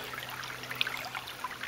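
A sand-choked creek flows steadily at close range, its soft continuous trickle and gurgle broken by a few brighter splashes, with no talk.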